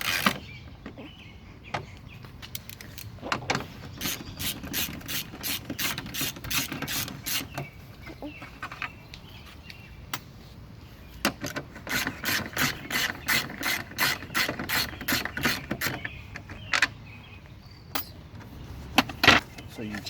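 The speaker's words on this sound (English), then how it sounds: "you're going to need your ratchet, an extender, and if I'm not mistaken it's a 10 millimeter right there" Ratchet clicking in bursts of rapid pawl ticks while removing 10 mm screws from the brake light of a 2012 Hyundai Veloster, close and fairly loud, with pauses and some handling noise between runs.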